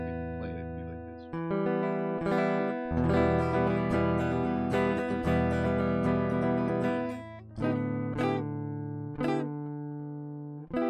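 Electric guitar played low on the fretboard, full distorted chords ringing out with sustained strums, then a few separate stabs toward the end, no talking.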